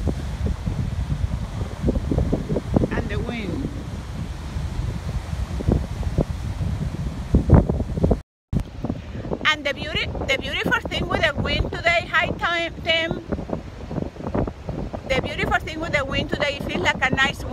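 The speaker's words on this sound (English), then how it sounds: "It's like an embracing wind, a warm wind, a wind like it's a warm blanket." Warm wind blowing outdoors buffets the microphone with steady rumbling gusts, then someone talks over the continuing wind noise.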